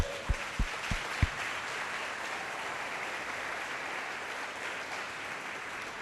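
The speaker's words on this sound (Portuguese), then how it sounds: "Dá um aplauso a ele." Applause from a church congregation for a speaker, a steady, fairly quiet spread of clapping, with a few sharp knocks near the start.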